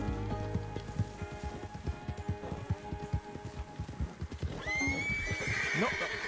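A horse in Red Dead Redemption 2 gallops with fast, steady hoofbeats, then lets out a loud, high whinny near the end, with ambient game sounds underneath.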